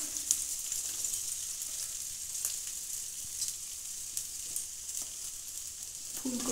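Carrots and beetroot go into a pan of frying vegetables, producing a steady, moderate hiss of sizzling with occasional soft stirring knocks, close by and without talk.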